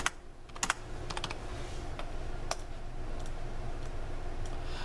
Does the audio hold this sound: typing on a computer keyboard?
yes